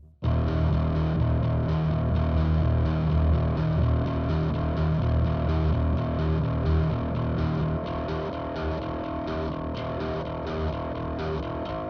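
An electric guitar plays through a RAT distortion pedal with a variable crossover, producing a thick, saturated, buzzing tone that sustains loudly and evenly, slightly quieter toward the end.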